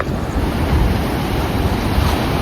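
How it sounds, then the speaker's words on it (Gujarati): Roaring water waves make a loud, continuous rushing surge with heavy wind buffeting on the microphone, steady and close throughout. "તો પાણી ઘૂઘવાટા નાખે છે"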